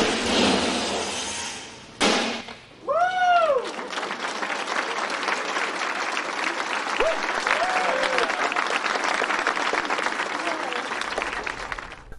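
Sustained applause and clapping ring out at a NASA Mars rover drop test, following a short burst of noise and a brief rising whistle-like tone, with voices under it.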